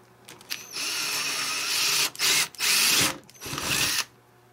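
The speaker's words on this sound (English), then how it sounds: "I'm going to drill through" A power drill whines through wood in several bursts, a long run followed by short pulses and a final spin, close and loud.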